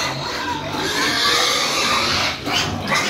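Hungry sows on a farm squeal and grunt loudly and continuously, a dense, noisy chorus of pigs crowding close by with no one talking over them.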